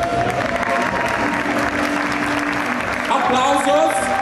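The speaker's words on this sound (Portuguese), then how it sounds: "Aplausos!" Dense, steady audience applause fills a room during a costume contest in Braga, loud and continuous, with voices and cheering rising over it toward the end.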